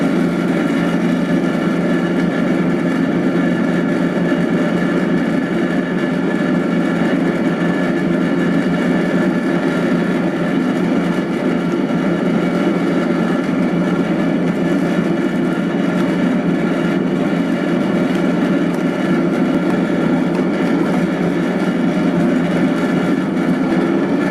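A dough mixer machine kneading pandan bun dough, a loud steady mechanical hum and drone running continuously without a break, close and unvarying, with no talk over it.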